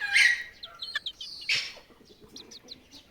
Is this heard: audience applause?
no